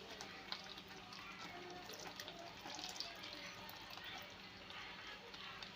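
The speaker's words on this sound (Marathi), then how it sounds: "तर आता मी यामध्ये दूध टाकते।" Milk pours steadily into a pot of rice kheer, a soft continuous liquid rush and gurgle heard close up for several seconds.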